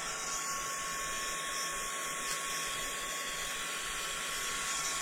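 A handheld heat tool blows steadily to dry PVA glue on a craft Christmas bauble. Its constant airy whir with a faint whine sounds close and continuous throughout, with no talking.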